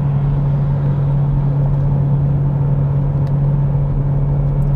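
A Renault Megane GT estate with a 1.6 TCe engine and EDC7 gearbox accelerates hard in third gear, its engine giving a steady, loud droning hum and road rumble from inside the cabin.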